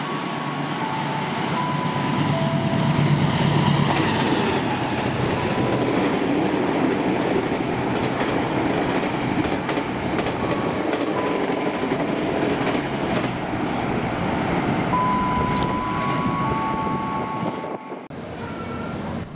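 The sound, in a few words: passenger train passing, Argo Anjasmoro by PT KAI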